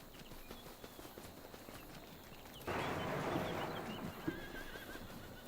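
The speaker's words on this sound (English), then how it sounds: "It's almost like the horses heard that door open." Horses in the video game Farming Simulator 25 neigh and whinny over a soft clip-clop of hooves, fairly faint and continuous, growing a little fuller midway, with no talk.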